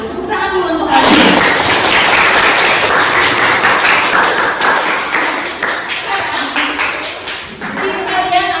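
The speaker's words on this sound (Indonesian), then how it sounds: "Tepuk tangan dulu untuk kalian." A classroom of students claps together during a sociology lesson, a sustained burst of close, dense applause lasting several seconds. A teacher's voice is heard briefly before and after it.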